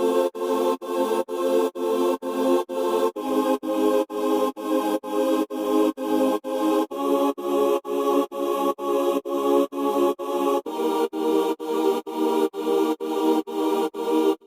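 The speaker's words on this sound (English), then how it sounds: "in this second part of the breakdown I added this choir" Choir sample in the breakdown of a collaborative electronic track, chopped into steady rhythmic pulses of sustained voices, loud and continuous with no talking.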